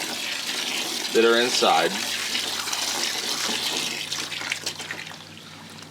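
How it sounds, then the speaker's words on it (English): Water pours steadily into a hydroponic growing container as nutrients are mixed in, a continuous close trickling rush running beneath a person's speech throughout. "we're going to start adding our water"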